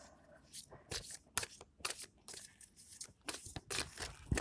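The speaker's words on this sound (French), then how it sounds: "Et nous allons pouvoir procéder au mélange des cartes" Tarot cards are shuffled by hand close to the microphone, giving quick, soft, papery riffles and slaps in irregular bursts at a low level.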